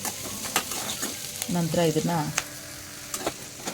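Onion and spices fry toward browning in a pan for a fenugreek sambar, with a constant sizzle broken by repeated spatula scrapes and stirs; a voice briefly speaks midway.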